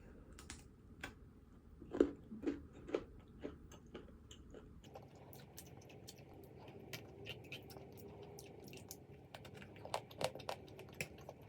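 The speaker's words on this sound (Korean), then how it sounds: "또 먹어" Close, quiet eating of bread and sweets such as Dubai chocolate, cheese pudding and cookies, with soft crunchy bites and steady chewing clicks scattered through the stretch, and no talking.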